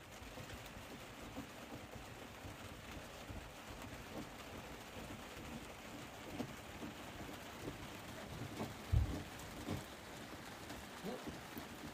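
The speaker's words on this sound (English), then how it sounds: "it's raining outside" Steady rain falls outside a sailboat, a faint, even hiss of drops on the deck and cabin roof that continues throughout, with a soft low thump near the end.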